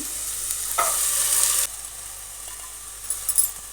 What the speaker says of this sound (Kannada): ನೆನೆಸಿರೋ ಕಡಲೆಬೇಳೆ ಹಾಕ್ತಾಯಿದ್ದೀನಿ